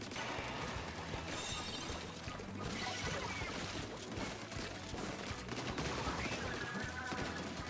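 Rapid weapon fire from an online match of Splatoon 3, a dense continuous clatter of shots and mechanical ratcheting sounds running steadily under the game's busy soundtrack, with no pauses throughout.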